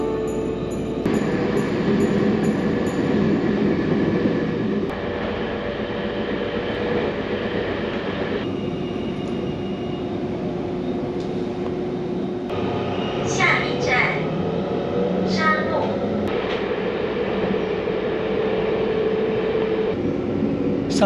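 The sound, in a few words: train running on coastal line in Taiwan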